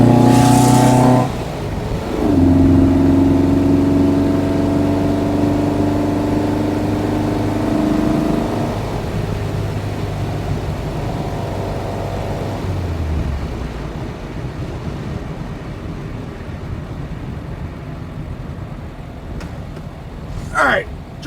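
A 1971 VW Square Back on the road, its engine lugging at low revs in third gear with a steady, close drone that fades after about thirteen seconds into road and wind noise, ending with a short sharp sound.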